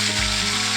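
Pomfret fish frying in hot oil gives off a loud, steady, close sizzle with a brief soft splash near the start, and no voices.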